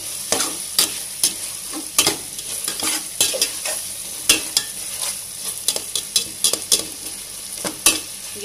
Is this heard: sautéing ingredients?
yes